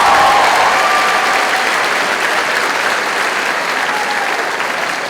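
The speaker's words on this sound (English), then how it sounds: "So if you can give them a round of applause." Loud, sustained applause from a concert audience for a high school choir at a spring concert, dense clapping fading slightly toward the end.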